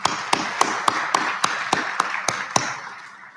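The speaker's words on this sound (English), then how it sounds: "Students, I think your parents deserve a round of applause." Clapping at a high school senior awards night, heard as a series of about ten sharp, evenly spaced claps, fairly loud and close, ringing slightly in the room and fading after the last one.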